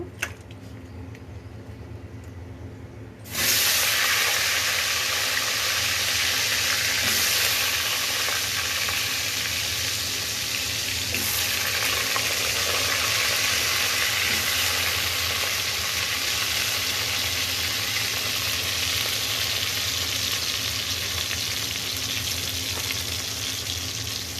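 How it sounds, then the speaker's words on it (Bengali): Potato pieces frying in oil in a pan, a steady loud sizzle that starts abruptly a few seconds in and continues evenly, close up, with faint stirring. "এখন আলুটা ভেজে নেব।"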